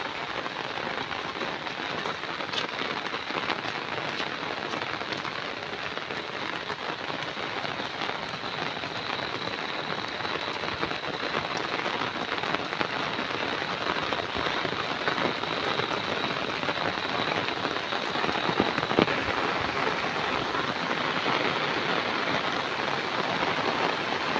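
Persistent heavy downpour over farmland, a thick continuous wash of rain noise lasting well over twenty seconds, fairly loud and even, with no talk.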